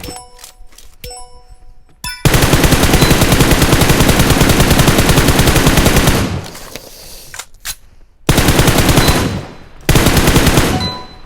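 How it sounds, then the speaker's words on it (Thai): Automatic gunfire in PUBG Mobile, loud, with a few short taps and then long sustained bursts of rapid rattling shots broken by brief pauses. "เดี๋ยวผมจะมา ลองยิงอันนี้ให้ดูแล้วกันครับ"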